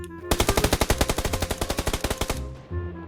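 Rapid automatic gunfire in the shooter game PUBG Lite, a loud close burst of about twenty evenly spaced shots lasting two seconds, then a short lull with a faint thud.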